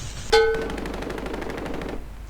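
Automatic gunfire in the Call of Duty Mobile video game: one loud close shot followed by a rapid rattling burst lasting about a second and a half, then quiet.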